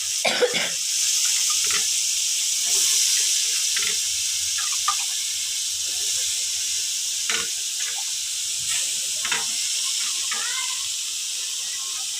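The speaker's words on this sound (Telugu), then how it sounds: "అలాగే బీరకాయలు కడిగినాను నేను ఇక్కడ కడిగేసి అక్కడ తర్వాత వేస్తున్నాను" Tap water runs in a steady broad hiss while ridge gourds are rinsed under it, with occasional soft knocks and splashes breaking through the flow.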